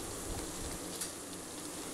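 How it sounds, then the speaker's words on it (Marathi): Fenugreek leaf curry (methi mudda bhaji) simmering in a pan gives a faint, steady bubbling hiss, continuous and fairly quiet with no voices. "भाजीला छान उकळी आली आहे"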